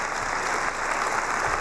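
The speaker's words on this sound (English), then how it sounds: "And applause from the studio audience." A studio audience applauds at Apple's 2013 iPad event, producing a dense, steady wash of clapping that holds at an even level throughout the short burst.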